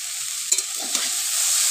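A spatula stirs a bitter gourd, potato and eggplant curry in a pan, giving a few soft scraping strokes over a steady low sizzle, with nothing else heard.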